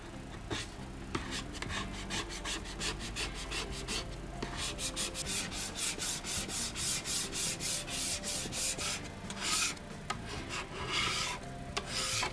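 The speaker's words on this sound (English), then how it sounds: "Now that we've finished scraping most of the stripper off" Varnish stripper being scraped off a vintage wooden sideboard, with steady rhythmic rasping strokes scraping close and loud across the wood surface, continuing without pause.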